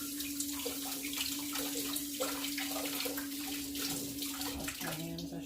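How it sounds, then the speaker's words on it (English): A kitchen tap runs steadily as hands are rinsed, a continuous splashing hiss of water with a faint steady hum underneath and small shifts as the hands move in the stream. "let me rinse my hands."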